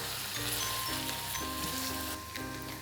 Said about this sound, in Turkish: Şimdi domates salçamı ekliyorum ve yaklaşık 1 dakika kadar da onu şöyle kokusu çıkıncaya kadar